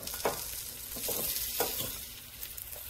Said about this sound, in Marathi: छान दोन्हीकडनं भाजून घेऊया आणि तूप लावूया